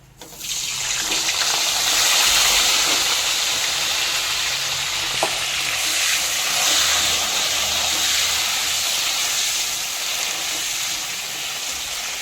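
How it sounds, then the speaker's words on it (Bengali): Cauliflower frying in oil for a Bengali fish curry, a steady loud hiss and sizzle filling the whole span with faint clinks and stirring, no voices. "তেলে প্রথমে ফুলকপিটা ভেজে নেবো তারপর আলুটা ভাজবো"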